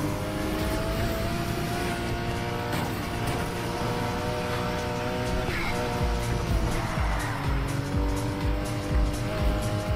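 A racing car's engine in the video game Need for Speed Heat revs hard at close range, with rising and falling pitch and tire squeal, loud and continuous with no talk.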